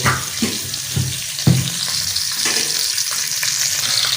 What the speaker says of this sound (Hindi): अभी घी हमारा गर्म हो गया है